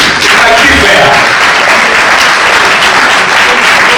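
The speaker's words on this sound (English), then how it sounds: "let me ask you to clap for this family, please" Sustained applause from an audience at a film awards ceremony, clapping for a family called to the stage; a steady, dense wash of many hands throughout, loud and close, with no clear speech.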